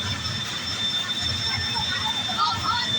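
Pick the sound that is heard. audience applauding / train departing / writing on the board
train departing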